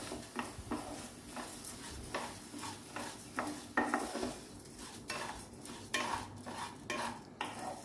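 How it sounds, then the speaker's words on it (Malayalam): Rice dry-roasting in a pan for Palakkad-style idli podi, stirred steadily: a quiet, rhythmic run of scraping and rustling strokes with light grain clatter, fairly close, no voices. "നമുക്ക് നമ്മുടെ അരി ആദ്യം തന്നെ ഒന്ന് വറുത്തെടുക്കാം"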